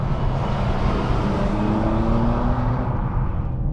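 BMW M2 G87 engine pulling hard in third gear, a steady loud rising drone that builds continuously toward the rev limiter, heard from inside the car with no talk.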